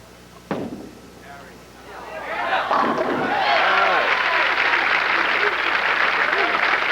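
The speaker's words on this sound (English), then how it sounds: "Tony has his cheering section in this capacity crowd here today" A capacity crowd at a 1989 PBA Tour bowling tournament in New Orleans breaks into loud applause and cheering after a sharp pin crash, the clapping swelling and holding steady.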